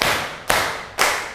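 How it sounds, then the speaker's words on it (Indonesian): Three sharp hand claps in a classroom 'tepuk 3' pattern, evenly spaced about half a second apart, loud and close, each clap ringing briefly before the next. "Tepuk 3."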